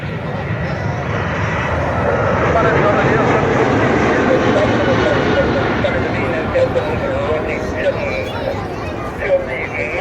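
A Boeing 737-800 jet airliner flies low while banking and lining up with runway 02 at an air display, a loud steady engine roar that swells and holds, with crowd chatter and commentary underneath.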